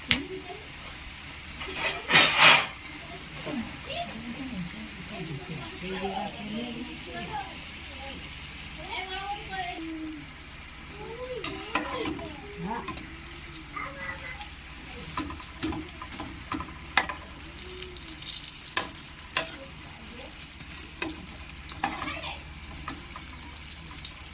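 Singara (samosas) deep frying in hot oil: a steady, bubbly hiss runs throughout with a brief louder burst near the start, and a voice is heard talking at times over it.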